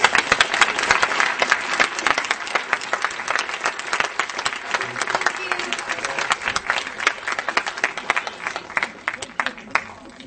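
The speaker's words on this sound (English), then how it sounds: "Big applause, please." Loud, sustained applause from a large crowd at a fan Q&A in Hamburg, with dense clapping and cheering over the full length and some voices mixed in.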